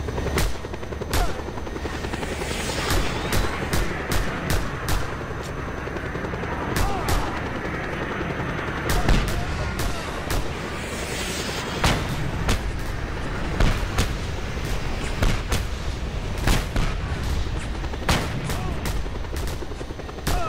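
Sharp gunshots crack repeatedly in Just Cause 2, in scattered single shots and short bursts over a steady helicopter rotor drone, fairly loud throughout.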